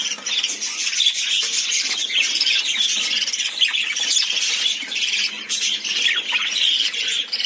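Budgerigar chicks squawk in a steady, dense stream of shrill, raspy calls, close and continuous with no pauses or talk.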